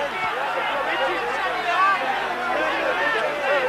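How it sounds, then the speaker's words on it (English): Spectators at a Wakefield versus Leeds rugby league match keep up a continuous roar of shouting and babble, steady and fairly loud throughout. "there's plenty of input from the crowd at this match"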